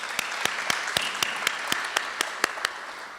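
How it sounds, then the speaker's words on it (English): Audience clapping at a 2018 leadership development program graduation ceremony: about a dozen sharp, evenly spaced claps in a steady rhythm, close and moderately loud, with no voices. "we can clap."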